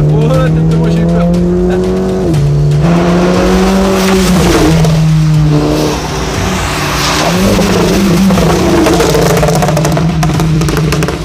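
Car wheels spinning and skidding during a Bastille Day gathering, loud sustained tire squeal with wavering pitch over engine noise, very close, while someone talks.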